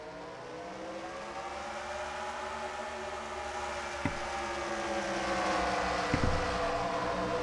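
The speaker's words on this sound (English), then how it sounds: "let's just go ahead and get the command to fire engines for this race already" A pack of stock race cars in a racing video game drones with engines idling and building together, a steady layered hum that swells slightly, with a couple of sharp clicks.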